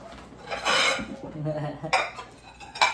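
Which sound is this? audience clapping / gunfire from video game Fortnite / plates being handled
plates being handled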